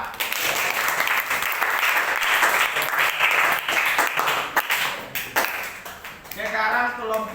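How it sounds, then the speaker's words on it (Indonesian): Classroom applause from students for group 4 in an Indonesian lesson, dense continuous clapping throughout, heavy and close, thinning toward the end while a voice speaks over it. "Tepuk tangan dulu untuk kelompok 4"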